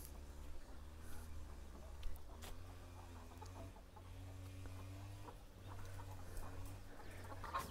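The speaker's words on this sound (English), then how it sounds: "And these are the ducklings from a few weeks ago." Young ducklings on a farm call continuously in overlapping peeps and chirps, fairly close, over a steady low background hum.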